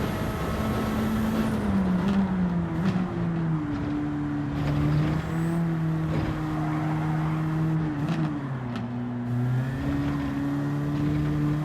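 A Silvia race car engine in Gran Turismo 7 holds a steady, loud droning note that rises and dips gently as the throttle shifts, with brief clicks of gear changes and no voices over it.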